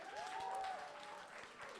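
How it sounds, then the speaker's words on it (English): A brief burst of crowd clapping rises from a community audience celebrating QTBIPOC familia, with a high whoop or whistle riding over the claps before they taper off. "Round of applause, y'all."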